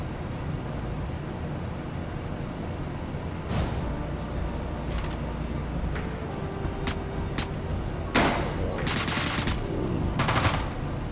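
Gunshots fired in the video game Deadbolt, a few sharp bursts standing out over a steady background hum, with a louder cluster of shots near the end.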